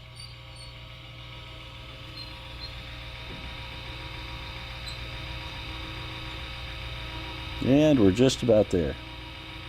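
A motorized remote racking device drives a Siemens-style circuit breaker in switchgear, making a steady electrical hum, then several loud mechanical clunks and ratcheting bursts near the end as it reaches its torque limit. A voice speaks briefly.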